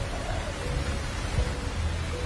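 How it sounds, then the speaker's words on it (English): Typhoon weather at an aircraft crash site on an airport runway: constant rain and rushing wind make a steady broadband roar, with low rumbling gusts underneath and no speech. "During the storm weather, it's difficult to do anything outside at the accident site."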